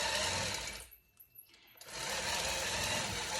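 A longarm quilting machine hums and stitches rapidly while sewing binding onto a quilt, its steady motor buzz dipping into a brief pause before resuming loud and continuous.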